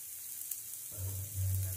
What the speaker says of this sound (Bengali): লবণ দেওয়ার পর সবজিগুলোকে আবারও একটু নেড়ে চেড়ে নিতে হবে।